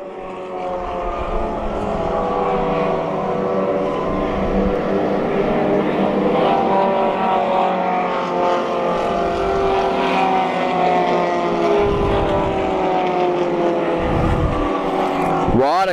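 Mini stock race cars roar around the New Hampshire Motor Speedway oval, a steady loud engine drone with passing cars swelling and fading, under an announcer's talk.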